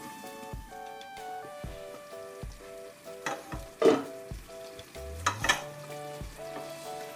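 Pork stir fry with Chinese celery cooks on low heat, making a soft, steady sizzle with scattered clacks of stirring up close. Background music plays alongside.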